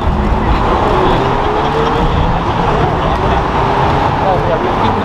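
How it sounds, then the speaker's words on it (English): An old-school Ferrari drives past on a city street amid dense, continuous traffic rumble, its engine blending into the loud roadway noise as voices talk nearby. "Old school Ferrari."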